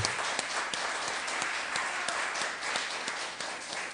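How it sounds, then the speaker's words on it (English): A church congregation applauds steadily, a dense patter of many hands clapping at moderate loudness with no voices over it. "What about a big applause for the praise and worship team?"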